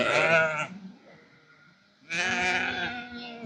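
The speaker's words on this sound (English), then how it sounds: "There are some beautiful, beautiful lambs," Ewe lambs on a farm during lambing season give two loud, harmonic bleats, one at the start and a longer one after a short pause, with quiet barn background between.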